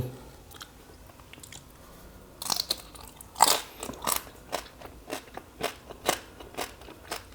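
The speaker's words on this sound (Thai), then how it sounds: "เป็นหนังหมูกรอบอืมเข้าไปในซีอิ๊วหวานเต็มๆครับทุกคน" Crispy roast pork skin from a whole spit-roasted pig, dipped in sweet soy sauce, is bitten and chewed close up, giving a series of sharp crackling crunches, louder bursts early on and then rhythmic chewing crunches.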